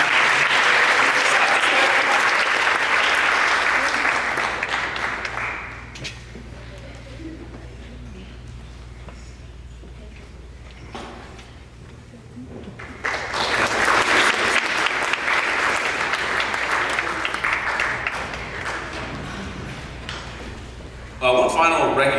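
Audience at a school upper school awards ceremony claps for a student, a loud dense round of applause that dies down into quieter room sound, then a second strong burst of clapping rises again.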